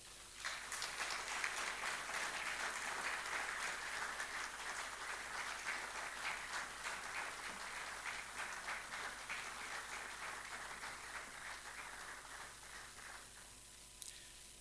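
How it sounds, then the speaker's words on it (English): Audience applause at a panel event on a just energy transition in Nigeria, sustained dense clapping that holds steady for over ten seconds before thinning out, heard fairly faint and distant. "Please, a round of applause for her."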